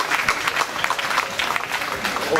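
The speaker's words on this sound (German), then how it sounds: "Ein Applaus natürlich nochmal erst." At a Kerwe village festival prize announcement, a crowd applauds with dense, steady clapping and crowd noise, loud and continuous for a couple of seconds.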